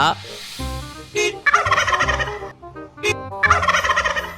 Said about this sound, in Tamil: இங்க ரோட்ல வான்கோழி